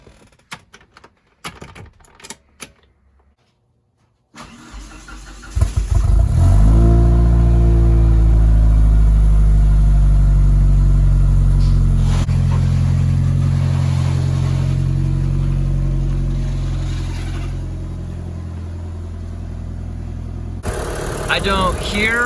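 A car engine with a Cerakoted exhaust header cranks and catches after a few clicks, then roars up in a loud rev and settles into a steady, rumbling idle with no exhaust leaks.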